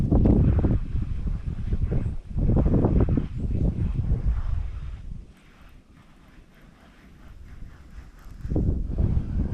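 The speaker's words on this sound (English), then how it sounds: "that wind pushing, y'all" Winter wind blows across a lake from a bass fishing boat parked by the bank, heard as rough gusty buffeting on the microphone that swells, drops away to a quieter lull, then rises again.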